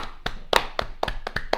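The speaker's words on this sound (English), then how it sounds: "if you are in an ambulance at the moment, then this applause is for you as well" Scattered hands clap as applause during an online live chat, with about eight sharp, uneven claps at close range and no voices.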